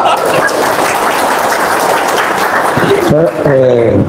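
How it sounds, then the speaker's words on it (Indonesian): A crowd claps loudly and steadily for about three seconds, then a voice cuts in as the clapping fades. "Tepuk tangan."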